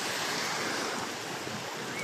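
Waves wash in steadily at Boracay beach, a dense continuous surf rush with wind noise buffeting the microphone and no voices.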